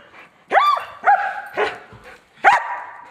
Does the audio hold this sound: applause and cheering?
no